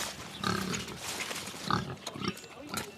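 Pigs on an Auvergne farm grunt and oink in a few loud, close bursts with short gaps, forming a busy, uneven cluster of animal calls and no talk.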